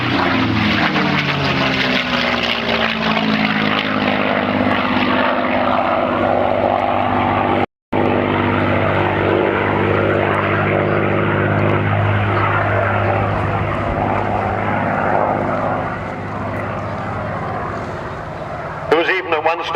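A WWII propeller aircraft flying at the 2005 RAF Cosford Air Show makes a loud, sustained engine drone that shifts in pitch as it passes, cuts out briefly and thins toward the end, with a voice speaking over it.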